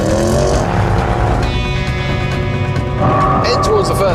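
A car accelerates hard on a test track with a loud, continuous engine roar that climbs in pitch through gear shifts, while someone commentates over it.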